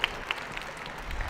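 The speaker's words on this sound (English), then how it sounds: "so you can applaud." Scattered audience applause at a live math quiz show, a few sharp claps standing out early before thinning to light, uneven clapping.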